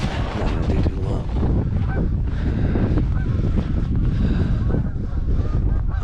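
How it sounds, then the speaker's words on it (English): Geese honking along the Lake Ontario shore near a lighthouse at Point Breeze in cold weather, mixed into steady wind buffeting the microphone, with no clear breaks in the dense outdoor noise. "A lot of geese out here."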